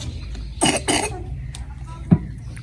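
Two quick, harsh coughs from a child close by on a winter morning in a village home, followed by a faint breathy sound and a soft thump in a quiet room.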